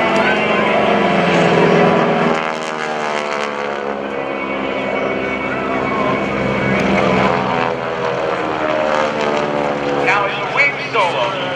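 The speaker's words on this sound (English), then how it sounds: "9-cylinder radial engine known as the Pratt & Whitney R1340" A GEICO Skytypers airshow plane with a nine-cylinder Pratt & Whitney R1340 radial engine gives a loud, throbbing propeller drone that rises and falls as it passes. An announcer talks over it throughout.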